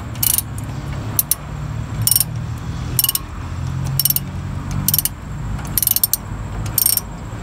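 A ratchet wrench loosens a 17 mm brake caliper bracket bolt on a 2002 Toyota Camry front wheel, sounding as repeated bursts of sharp clicking pawl strokes about once a second, close and clear over low mechanical rumble.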